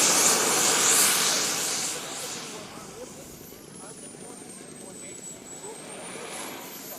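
At an airshow, Slick 360 and Extra 300 aerobatic planes roar loudly, then fade into a distant engine drone with a rising and falling whine, while a voice talks in the background.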